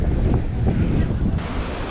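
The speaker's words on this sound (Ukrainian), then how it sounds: "бо дуже-дуже вітряно на вулиці" Strong wind buffets the microphone outdoors in Stanley Park, Vancouver, with waves washing nearby; a loud, continuous roar with no speech.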